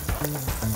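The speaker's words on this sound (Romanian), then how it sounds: "Primul va merge morcovul, pentru că el este mai dur și noi vrem să obținem morcov prăjit bine, aromatizat" Carrots fry in a cauldron outdoors, a steady close sizzle and crackle of hot oil with a faint low tone running under it, and no speech over it.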